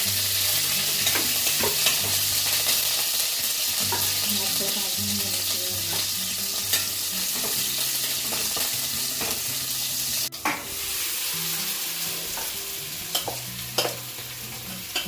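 Green chillies sizzle steadily in hot oil in a large kadhai, a loud continuous frying hiss with scraping stirs throughout and a sharp burst of spatter near the end, no voices.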